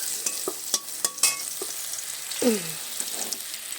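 Garlic sizzling in a pan while cooking helencha greens, with a steady frying hiss and a few utensil scrapes and clinks from stirring, close and moderately loud, no talking.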